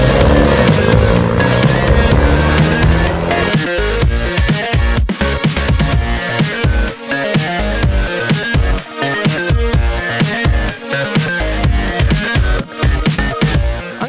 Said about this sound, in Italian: salire a bordo della nuova Peugeot RCZ Cup, con cui faremo alcuni giri